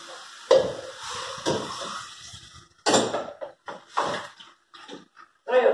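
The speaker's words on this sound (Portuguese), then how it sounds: "e cubro com água" Water poured into a pan over beef brisket in a home kitchen, giving several splashing, gurgling bursts of pouring with short pauses between them.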